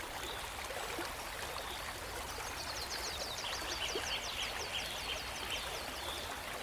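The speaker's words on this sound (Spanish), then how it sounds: "Solo el sonido constante y paciente del agua fluyendo, como lo ha hecho durante miles de años." Water of the Nile River flows steadily, a constant soft rushing and trickling wash heard close and alone, with faint high chirping from birds in the background.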